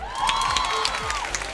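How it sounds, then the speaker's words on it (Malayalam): An audience at a Malayalam TV show set in a college claps and cheers: a steady wash of applause with whoops, while a voice talks over it. "ഒരു കയ്യടി കൊടുത്തേ."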